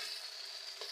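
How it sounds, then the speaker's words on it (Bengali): Tomato, chopped onion, salt, ginger-garlic paste, turmeric, chilli and cumin sauté in a pan with a brief, steady hiss, and no one speaks. "সব মশলা ভালো করে কষানো হয়ে গেছে"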